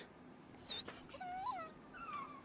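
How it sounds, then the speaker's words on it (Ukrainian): Puppies whimpering in the video game Endling: a few thin, high whines that rise and fall in pitch, faint and close, separated by short pauses over quiet background hiss. "Чую скавчать цуценята."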